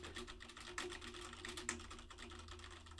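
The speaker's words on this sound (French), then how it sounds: "Test du clavier mécanique." Quiet, fast mechanical keyboard typing, a continuous run of crisp clicking keystrokes over a low steady hum, with no voices, recorded through a Rode PodMic.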